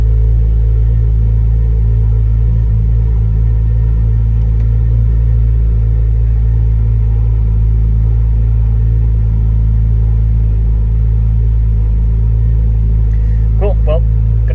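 A Porsche 997.2 GT3 running on a COBB Accessport tune idles with a heavy, steady low rumble that stays constant and close throughout, with a few faint clicks and a brief higher squeak near the end.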